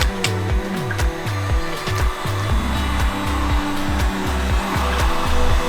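A heat gun or hair dryer blowing hot air over Ski-Doo snowmobile handlebar grips, a loud steady whirring hum with a wavering, stepping pitch throughout.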